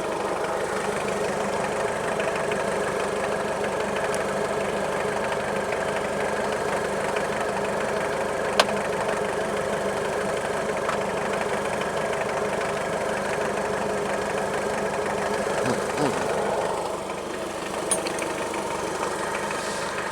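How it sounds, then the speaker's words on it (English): A reassembled Toyota Hilux pickup engine, with its timing out, idles steadily at close range for about twenty seconds. The rumble is even and continuous, with a few faint ticks and a slight shift near the end. "So we have a running, ticking over, revving Hilux, reassembled"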